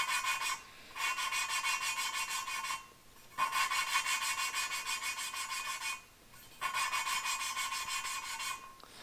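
Mini engine valve being lapped with lapping compound: three long rasping, rubbing bursts of steady back-and-forth grinding, close and loud, separated by brief pauses, with no talking.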